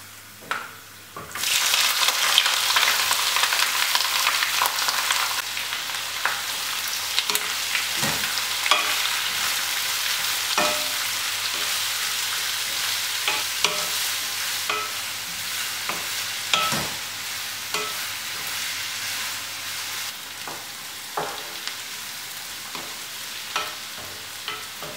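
Chopped onions dropped onto browning coconut pieces in a pan for a Kerala masala chicken curry sizzle and crackle loudly and steadily, with occasional clicks of stirring throughout.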